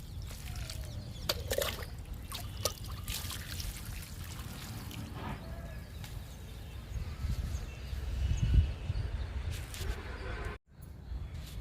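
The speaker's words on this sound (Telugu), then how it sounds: "బీరపాదుకి ఇస్తున్నానండి లిక్విడ్ని." Liquid fertilizer trickling and pouring from a container onto the soil at the base of a ridge gourd vine in a home vegetable garden, a continuous close splashing dribble with a few birds faintly heard outdoors.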